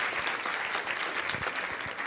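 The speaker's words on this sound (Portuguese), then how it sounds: "Por favor, aplauda Eduardo." Audience applause fills a lecture hall at a talk on technology and addiction, a steady dense wash of clapping for about two seconds with no voices on top.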